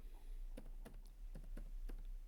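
Code is typed on a computer keyboard for an Angular 17 project, a short run of about seven distinct key clicks in an uneven rhythm, close and fairly quiet over a low steady hum.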